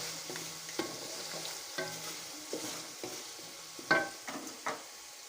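Chicken karahi frying in a pan with a soft steady sizzle, broken by several sharp scraping stirs of a spoon against the metal as kasuri methi is added, close and alone without talk.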